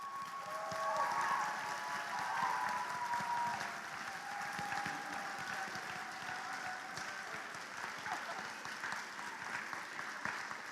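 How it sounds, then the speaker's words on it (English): An audience at a college opening convocation applauds the staff, a sustained, moderately distant wash of clapping from a large hall crowd that holds steady, then slowly thins. "Staff, would you please stand and let us applaud you?"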